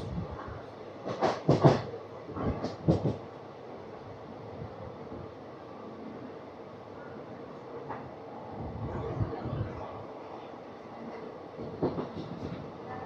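Palnadu SF Express passenger train running on rails between stations, a continuous rumbling roll with a few louder clanks early on, heard from inside the coach with no talking.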